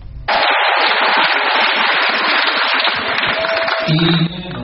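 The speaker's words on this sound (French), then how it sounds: "des applaudissements et des cris de joie des plusieurs chrétiens venus de différentes confessions religieuses que Vassoula Reiden a été accueilli" A large crowd of Christians from various denominations at a conference in Lubumbashi breaks into loud, dense applause and cheering that holds steady for about four seconds before cutting off.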